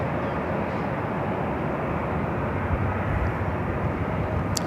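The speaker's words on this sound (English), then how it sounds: "I have a Dreamliner heading up here for north side at takeoff" A Japan Airlines Boeing 787-9 Dreamliner roars through its takeoff roll at Los Angeles airport. The jet noise is loud, broadband and steady, with no voices.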